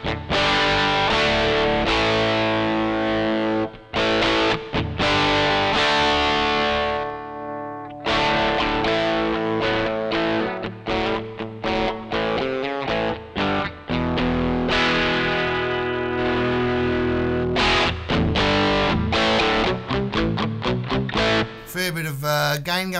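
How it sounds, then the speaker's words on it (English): A heavily distorted electric guitar through the distortion amp model of a Flamma FX50 portable multi-effects headphone amp plays chords and chugging riffs, with abrupt stops and sustained crunchy tones. "Next amp is a distortion amp."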